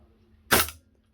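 A single sharp crack from a Cybergun CANiK TP9 Elite Combat airsoft pistol firing 0.2 gram BBs on green gas, with a short decay into quiet.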